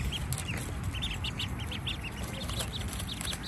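Ducks quacking repeatedly at a moderate distance in a small-town Virginia springtime setting, short nasal calls scattered over a steady outdoor background hum.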